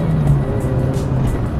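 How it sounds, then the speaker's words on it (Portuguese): Citroen AX Sport engine revving hard at high rpm through fast curves, a loud, close, steady drone heard briefly on its own. "Este é um motor que só sabe andar em altas."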